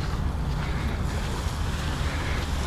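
A calm sea at Alanya, Turkey, heard as a steady soft wash of water with low wind rumble across the microphone, continuous and even, with no voices.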